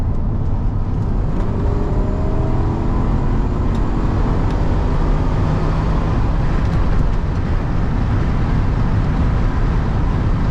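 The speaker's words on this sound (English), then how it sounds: "So it's a convertible. You're gonna get some road noise, some wind noise." Constant loud rumble of road noise and rushing wind from a moving 1993 Cadillac Allante convertible with its top open, steady throughout with no voices.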